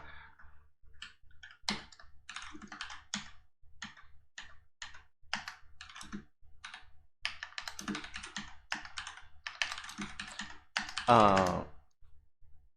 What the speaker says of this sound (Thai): ผมจะลองพิมพ์ให้ดูเท่านั้นนะครับ